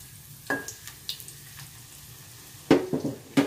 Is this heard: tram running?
no